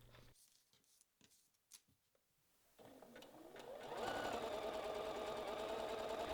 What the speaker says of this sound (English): And then you need to sew along the waist opening and both of the leg openings.